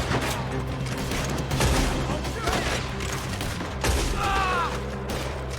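Rapid gunfire crackles through a Red Dead Redemption 2 firefight, dense overlapping shots with booming hits and mechanical clatter, loud and continuous, with a voice shouting briefly over it.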